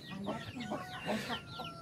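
Chickens at a village house cluck in short, close bursts while pecking at leftover, partly burnt rice, with soft rustling between the calls.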